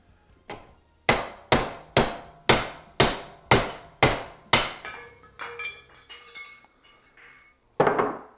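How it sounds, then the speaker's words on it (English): A steel hammer strikes a 1993 Honda CR250 motorcycle exhaust pipe and silencer in a steady series of about eight loud, ringing metallic blows, followed by softer, quicker taps and one final hard hit, close and without talk. "I have to get a steel hammer so I can really hit it."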